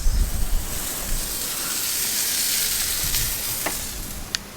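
Continuous sizzling hiss of hot dogs frying on a grill at a beach campsite, moderately loud, with a few clinks and wind or surf in the background.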